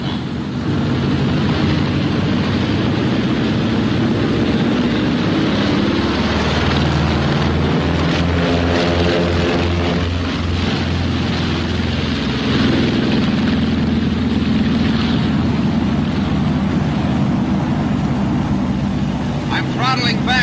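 Twin radial engines of a 1944 B-26 bomber roar steadily at takeoff power, loud and continuous throughout, with engine tones shifting midway as the aircraft climbs out; a voice talks over the engine noise.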